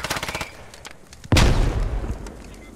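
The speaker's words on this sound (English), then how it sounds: "Another grenade coming in." In the SquadOps game, a quick run of rapid gunshots crackles, then after a short lull a grenade bursts with a loud, close boom that rumbles and fades with scattered debris.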